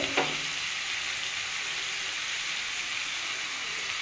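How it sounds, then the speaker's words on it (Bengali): Chilli powder and turmeric sauté in hot oil in a pan, giving a steady, even hiss of frying that stays close and constant throughout, with a small clatter at the very start. "পরিমাণ মতো হলুদ সব দিয়ে বন্ধুরা একটু কষে নেব"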